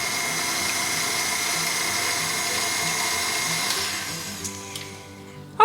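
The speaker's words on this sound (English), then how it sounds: "we're just gonna mix it with the paddle and just mix it until it's combined" Stand mixer with paddle attachment whirring steadily through keto chocolate cream pie filling, then spinning down and stopping near the end.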